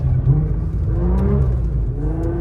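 Nissan R35 GT-R with a straight-cut third gear, driving on snow: a steady engine drone carries a rising gear whine that sweeps upward twice, loud and close throughout, with no talking.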